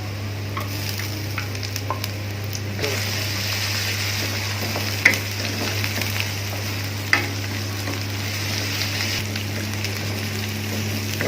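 Garlic and ginger paste hitting hot oil with onions already fried, a steady close sizzle and frying crackle with stirring scrapes and a couple of sharp clinks.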